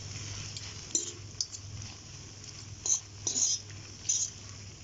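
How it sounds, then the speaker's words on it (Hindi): Two forks tossing and mixing chatpatay noodles in a dish, giving light, sparse clinks and scrapes of metal at close range, fairly quiet, with a low background hum. "2 फोर्क ले लें और इनसे अच्छी तरह इनको मिक्स कर लें"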